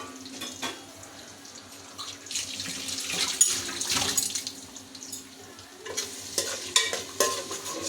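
Onions and green chillies frying in hot oil for chicken curry, a continuous sizzle with repeated scraping stirs of a spoon swelling louder in the middle and again toward the end.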